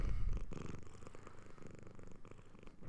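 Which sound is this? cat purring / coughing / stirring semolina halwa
cat purring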